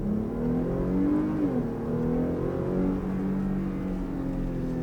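A V6 Jeep with a loud aftermarket exhaust, floored in sport mode and heard from inside the cabin, gives a deep droning roar whose pitch climbs steadily as it accelerates, with a brief dip at a gear change, continuous and close.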